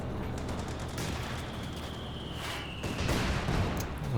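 US mortar shelling in Company of Heroes 2, a steady barrage of distant thuds and cracking impacts that swells louder toward the end.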